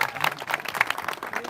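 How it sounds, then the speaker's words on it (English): Short burst of applause at an office headquarters grand opening, a small group clapping unevenly at close range, with scattered louder claps over a light patter. "A round of applause, everybody."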